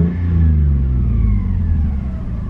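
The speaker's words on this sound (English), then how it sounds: "now rev with no clutch" A Lexus IS300 engine revs up close, a loud rising growl that holds, then eases back toward idle.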